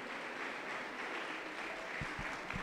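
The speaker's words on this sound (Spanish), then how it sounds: "Aplauso contento para Jesús" A Pentecostal church congregation claps for Jesus during a healing and testimony service, a soft, even wash of applause with a few low thumps near the end.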